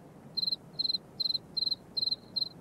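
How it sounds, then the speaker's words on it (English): A cricket chirps in six evenly spaced bursts, each a quick trill of about four pulses, clear and steady against a quiet background. "he chirped the most beautiful sound that she had ever heard"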